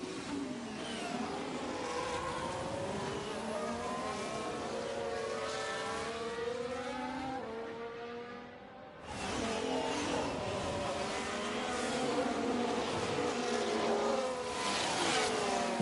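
A Ferrari Formula 1 car's engine screams in F1 Manager 24 at the Red Bull Ring, a loud sustained high-revving whine with gear-shift sweeps that dips briefly midway before surging again.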